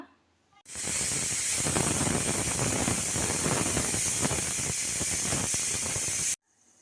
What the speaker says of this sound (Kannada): ಮುಚ್ಚಳ ಮುಚ್ಚಿ ಮೂರು ವಿಸಲ್ ಬರ್ಸ್ಕೊಂಬಿಡೋಣ